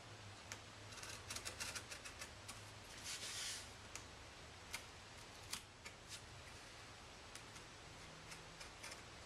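An X-Acto knife trims a sheet cleanly in faint, scattered clicks and scratches, with a brief rasping drag early on, quiet and close with no talk.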